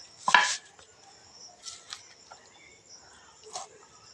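A knife or cleaver strikes a katla fish at a fish market stall, with one sharp chop followed by a few softer cuts and scrapes amid quiet surroundings.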